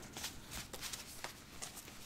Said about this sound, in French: Mélanger les cartes du tarot noir.